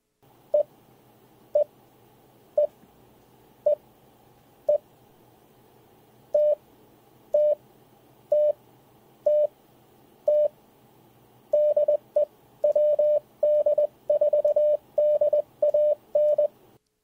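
Ham radio Morse keying tones play from a radio through an Anker Soundcore Mini speaker, loud steady beeps spaced apart at first, then quickening into dense runs of dots and dashes, with no talk.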